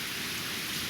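Ice rain falls in spring, a steady dense hiss of drops on surfaces, unbroken and fairly even throughout.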